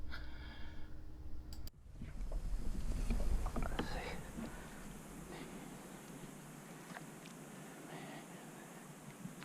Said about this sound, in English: As I'm paddling down through here